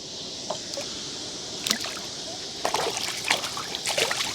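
Water trickles and splashes gently close to a microphone hung over the water while fishing, soft steady flow with scattered small drips and splashes.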